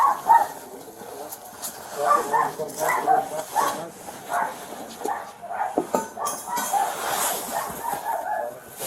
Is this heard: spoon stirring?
no